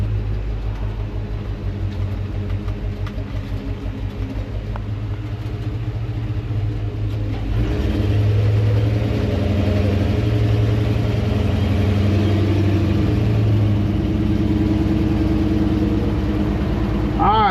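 A Ford F100 pickup truck engine, in need of a carburetor and suspected of a bad converter or worn valve seals, runs steadily with a deep, close rumble that grows louder partway through as it revs, while someone talks over it.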